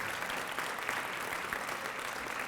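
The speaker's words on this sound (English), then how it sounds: "With all the parents and guardians, get a round of applause." A round of applause at a youth council and career pathways graduation ceremony honoring parents and guardians, steady dense clapping from a large audience filling the room throughout.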